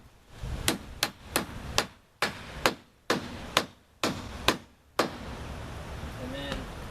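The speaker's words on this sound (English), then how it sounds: "We want to get a nail in it over here where our control is." Hammer blows driving a nail into metal roof drip edge, about ten sharp strikes in quick uneven bursts, close and loud, with a quiet voice near the end.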